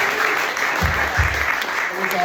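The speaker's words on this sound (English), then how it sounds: "A big round of applause for Jeremy for doing an awesome job." Audience at a hackathon demo event giving a short burst of clapping, moderately loud and fairly close, with a few low thumps and voices mixed in under it.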